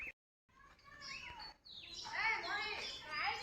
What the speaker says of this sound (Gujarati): ચકલા તેમાં જો ચી ચી ચી કરે